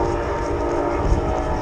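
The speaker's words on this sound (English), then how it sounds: "Now we're going to be approaching this train" A train passes close by, its steady heavy rumble and rail noise filling the air, with a sustained horn-like tone running through it.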